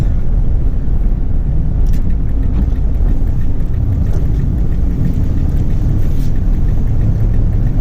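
A Ford F-250 pickup with a newly installed engine drives on a busy city street in Seattle, its steady low engine rumble continuous and fairly loud throughout, with no talking.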